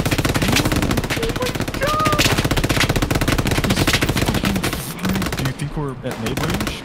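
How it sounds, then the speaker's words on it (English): Gunfire from a Panther tank and surrounding battle in the World War II game Hell Let Loose, loud rapid bursts of shots rattling continuously, with faint voices and game chatter mixed in underneath. "That's a panther shooting at us."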